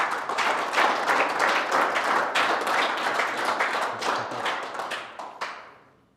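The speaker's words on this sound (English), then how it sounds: "Let's give these guys another round of applause" A crowd at a bass fishing tournament's championship day applauds steadily, a dense patter of many hands clapping that fades out over the last second.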